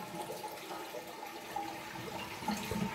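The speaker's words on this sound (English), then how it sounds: "you want to shut off the water and give it a flush" A toilet being flushed after its water supply was shut off during a new toilet kit installation, giving a faint, short gurgling rush of water that drains away quietly.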